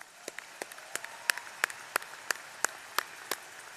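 Sparse, slow clapping from just a few people at a university graduate commencement, single sharp claps spaced roughly a third of a second apart, fairly faint and with no talk.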